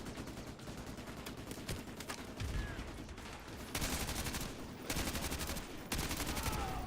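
Call of Duty: Modern Warfare 2 campaign gunfire rattles out in rapid automatic bursts, some long and sustained, with scattered single shots and mechanical clicks, loud and close with no talk.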